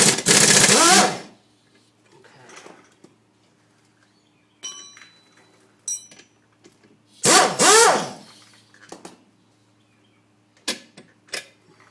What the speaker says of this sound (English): You should be able to get it with your rattle gun.